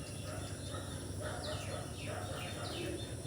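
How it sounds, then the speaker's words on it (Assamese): Domestic ducks coming in to eat in a muddy village courtyard during the rainy season give several faint, brief calls over a steady outdoor background hiss. "এয়া হাঁহকেইটা খাবলৈ আহিছে"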